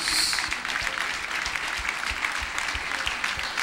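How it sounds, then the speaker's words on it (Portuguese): A church congregation at a youth week service applauds, a continuous crowd clapping that stays even and moderately distant throughout, with no clear voice above it. "Você pode aplaudir mais forte a Ele?"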